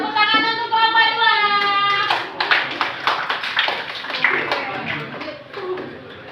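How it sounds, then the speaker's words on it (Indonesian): Classroom audience clapping for a student group about to present, a dense burst of many hands near and loud, starting under a voice and continuing alone with sharp irregular slaps that thin out toward the end. "Tepuk tangan untuk kelompok 2."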